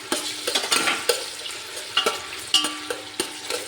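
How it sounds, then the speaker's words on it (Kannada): Tomatoes and onions fry in a pan for chicken biryani, with a close sizzle punctuated by frequent clinks and scrapes of a spoon stirring against the metal. "ಟೊಮೆಟೊ ಕೂಡ ಚೆನ್ನಾಗಿ ಫ್ರೈ ಆಗಬೇಕು"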